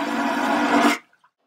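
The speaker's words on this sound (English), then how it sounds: "you'd think they'd update the toilet flushing sound from this." A cruise ship toilet flushes with a loud, forceful vacuum whoosh that holds steady for about a second, then cuts off abruptly into near silence.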